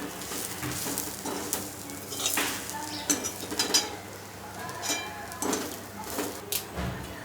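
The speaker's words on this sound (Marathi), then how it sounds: "खोबरं चांगलं फ्राय होत आलं" Grated dried coconut frying in a pan for a Malvani-style sambar, a soft continuous sizzle broken by repeated sharp scrapes and stirs of a spatula against the metal, close and without talk.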